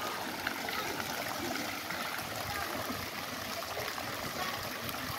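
A stream flowing behind a shower room at a beach resort makes a steady, even rush of water that holds at one level throughout, with no break or change.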